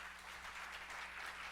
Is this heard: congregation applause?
yes